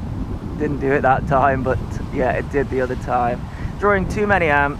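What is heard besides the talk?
wind blowing on a windy day outdoors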